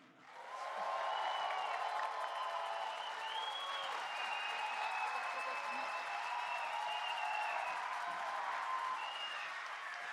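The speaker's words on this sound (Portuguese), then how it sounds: "acolhemos com uma calorosa salva de palmas a senhora ministra do Meio Ambiente, Marina Silva." Warm, sustained applause for the environment minister at a formal swearing-in ceremony in Brazil, a large hall of clapping with some cheering and murmur, steady and even throughout.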